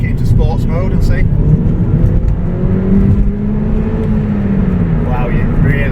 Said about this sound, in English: You can really hear the roar from the engine and that great note from the exhaust.